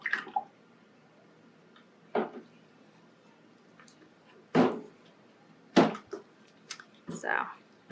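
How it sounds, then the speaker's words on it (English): Melted soap for a Christmas candle-shaped bar is poured gently into a mold, giving sparse soft drips and small liquid splashes in a quiet room, with a few brief murmurs of voice. "I'm gonna start pouring gently from this."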